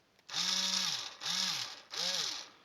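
A cordless electric drill, rewired to run on a power bank battery, whirs in three short bursts, each spinning up and winding down, with brief pauses between them; close and fairly loud, no talking.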